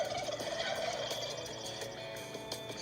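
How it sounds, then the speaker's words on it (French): A male wild turkey gobbles, a rapid, rattling run of calls repeated a few times in quick bursts, fairly faint and heard on its own with no talking. "Les dindons mâles ont tendance à émettre un glou-glou choc lorsqu'ils entendent des sons soudains et bruyants."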